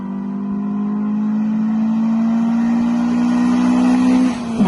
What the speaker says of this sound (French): on a ce son d'induction à l'admission propre aux ITB, propre aux moteurs de course